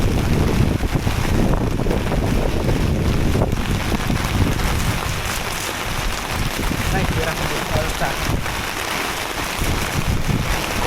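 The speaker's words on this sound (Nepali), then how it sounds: "बल्ल तलबाट पानी र हावाहुरी आउनु लाग्यो" Strong wind gusting loudly and continuously outdoors by a stream as a rainstorm arrives, with broadband roaring and microphone buffeting throughout.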